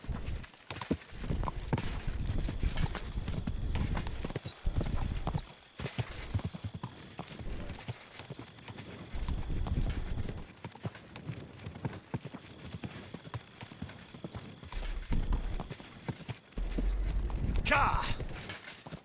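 A horse's hooves clip-clop steadily at a walking pace in the video game Kingdom Come: Deliverance 2, close and fairly loud, with a voice talking at times over the rhythmic beats.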